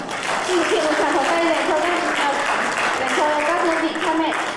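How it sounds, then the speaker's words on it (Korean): Welcoming applause from an audience at a reception in Korea for Vietnamese immigrant brides' parents, a dense, even clapping that runs throughout while a voice speaks over it. "오늘 참석해 주신 친정 부모님, 국내 가족, 다문화 가정 등 모든 분들을 위해 뜨거운 환영의 박수를 보내주시기 바랍니다"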